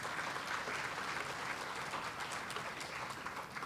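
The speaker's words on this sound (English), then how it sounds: "Give yourselves a round of applause." An outdoor crowd at a mural dedication ceremony claps steadily, a dense wash of applause that stays fairly even and moderately distant throughout, with no speech.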